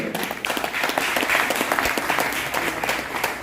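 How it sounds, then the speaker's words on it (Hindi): Audience of women at a regional team coordinator function breaking into loud sustained applause, dense clapping filling the hall throughout. "जबरदस्त तालियां एक बार नारी शक्ति के लिए।"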